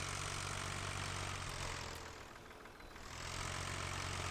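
A Ford 7000 tractor engine idles in Farming Simulator 15, a steady low rumble that holds throughout and dips briefly in the middle before returning at the same level, with no talk over it.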